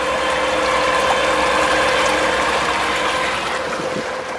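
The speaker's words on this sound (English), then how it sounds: "I'm testing now my new engine" A homemade electric outboard motor runs with a steady mechanical whine and a high tonal hum, continuous, close and fairly loud, with a whirring, ratchety texture and no voices.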